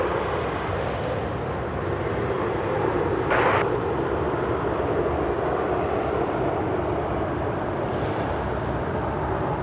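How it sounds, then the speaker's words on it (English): A Finnair airliner arriving at Sydney Airport gives a steady, broad jet roar that holds at a fairly even level throughout, with a brief brighter whoosh partway through. "we got the Finnair coming in"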